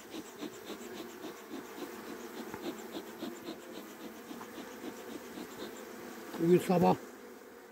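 Honeybees buzz at a hive during an early-spring check in Adana, a restless dense hum after a formic acid treatment, steady and close throughout, with a brief spoken voice near the end.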